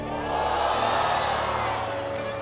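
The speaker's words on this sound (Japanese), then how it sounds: "大きな歓声が上がりましたが" A large crowd at the Takarazuka Kinen horse race erupts in a loud, sustained cheer that swells and holds across the whole moment, a dense roar of many voices.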